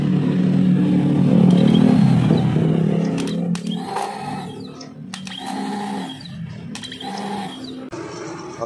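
A motorcycle starter dynamo fitted with a new armature and four brushes whirs loudly at close range, then gives several shorter spin-up bursts separated by brief pauses.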